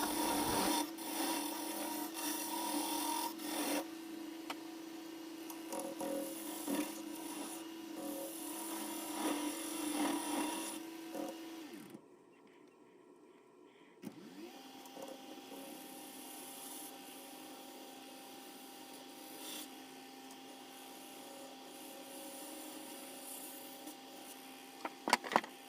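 Scrap-wood vase spinning on a woodturning lathe while being sanded, a steady humming whir with a continuous abrasive hiss, a short lull in the middle before the motor resumes its drone.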